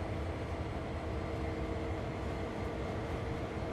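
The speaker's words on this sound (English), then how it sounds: "But we do get to see a train passing" A train rolls past in Train Sim World 2 on the Willard to Cumberland route, a steady, continuous rumble with a dense low roar that holds evenly throughout, no voices.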